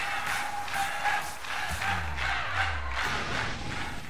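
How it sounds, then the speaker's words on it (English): A video-game crowd cheers and roars during a rap battle event in Pokemon Scarlet, a steady dense wash of voices with rhythmic pulses and low thumping beats beneath. "This crowd's so loud it could wake the dead."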